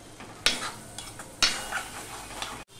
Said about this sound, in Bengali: এখানে মশলাটা কষানোর জন্য আমি জল দিয়ে দিলাম অল্প